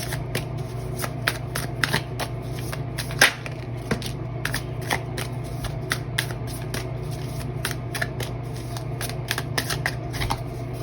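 Tarot cards being shuffled by hand in a steady flurry of crisp riffling snaps and flicks, close and continuous under a low steady hum, with no talking.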